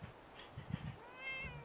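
A cat meows in Fallout 4 on a boat headed for Far Harbor: a short, bright meow rises over quiet game ambience and fades, and a faint second meow follows near the end.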